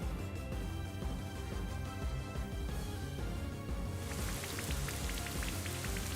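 Steady rain from the Rain Dance move in Pokémon Shining Pearl patters continuously under game music, with dense droplet ticks growing brighter and more prominent toward the end.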